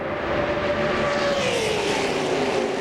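NASCAR Winston Cup race cars roar past at Talladega Superspeedway in 1997, a loud, sustained engine whine with a falling pitch as the pack sweeps by.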